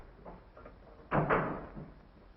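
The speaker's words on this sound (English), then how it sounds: "Shut the door, please." A door pushed shut in an indoor room, one firm thud with a brief rattle after a few soft shuffling sounds, close and distinct.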